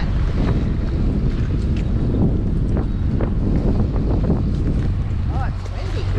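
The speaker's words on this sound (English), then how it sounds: "Oh, it's windy." Strong winter wind buffets the microphone in a steady roar at the St. Paul Winter Carnival ice sculpture garden, with faint voices and a brief whistling tone near the end.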